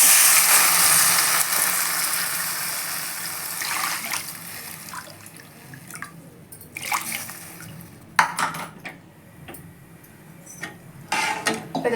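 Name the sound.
water poured into a pot for samba rava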